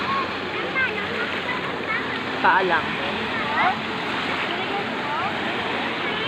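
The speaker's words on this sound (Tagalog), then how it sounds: "Ang lakas talaga ng alon." Strong ocean waves wash onto a beach in a continuous loud surf roar with broadband rushing, while a person talks over it.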